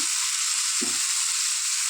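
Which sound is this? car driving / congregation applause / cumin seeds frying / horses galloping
cumin seeds frying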